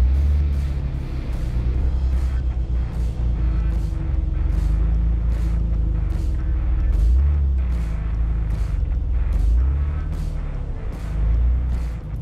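A stock Jeep Liberty crawls along an off-road trail at Hurricane Creek, its engine a steady low rumble that swells and eases, with repeated short knocks and clunks from the body over the terrain and no talk.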